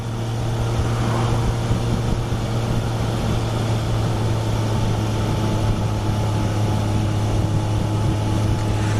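A motorcycle engine with strong torque drones steadily while cruising uphill in fifth gear at about 75 km/h, loud and constant with wind roar and no talk.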